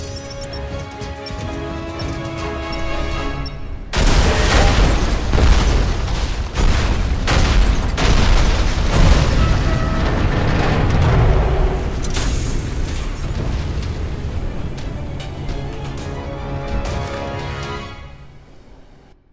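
A pumping station blows up in the Alien Rage video game, a sudden heavy blast followed by a long roaring series of rumbling explosions and crashing debris that slowly fades out.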